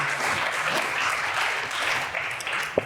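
An audience at a chamber of commerce candidate forum claps steadily, a dense patter of many hands at moderate volume that holds throughout, with a sharp knock near the end.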